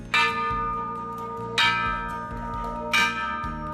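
A celebratory bell rung after finishing five rounds of chemotherapy and seven weeks of radiation, struck three times at steady intervals, each bright clang ringing out and decaying over a low, continuous background hum.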